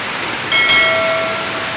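Heavy rain falls steadily in a broad hiss under a flooded-street downpour, loud and close, with a couple of faint knocks early and a brief tonal whine running through the middle.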